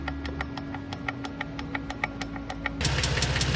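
A faulty car engine runs with an uneven ticking knock repeating rapidly over a low hum, then revs up louder and rougher for the last second.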